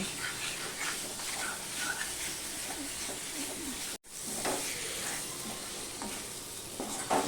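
Taro root being sautéed for a Bengali-style vegetarian curry, a steady close sizzle and hiss from the pan with faint stirring scrapes, broken by one brief dropout midway.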